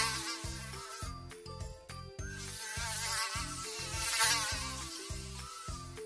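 In an animated children's storybook, a mosquito keeps a character awake at night. A high, wavering insect whine drones over a bouncy musical backing and rises and falls in loudness.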